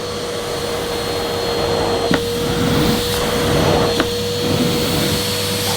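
A Hetty Next 200 vacuum cleaner runs on carpet with a loud, continuous whooshing roar and a steady motor whine, with a couple of faint knocks as it is pushed along.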